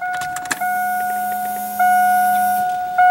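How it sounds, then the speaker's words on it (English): Electric fuel pump on a car converted from TBI to a carburetor with HEI ignition, a steady whine with a low hum running alone for about two seconds, with a few clicks before it. "Can you hear the fuel pump?"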